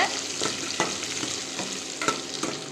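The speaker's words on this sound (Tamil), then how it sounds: "காஞ்ச மிளகா கருவேப்பிலை பூண்டு இப்போ இதை சேர்த்துக்க போகிறோம் நல்லா வதக்கி விடுங்க" Dried red chillies, curry leaves and garlic sautéing in a hot pan with chopped onion give a steady close sizzle, broken by a few scraping stirs of the spatula against the metal.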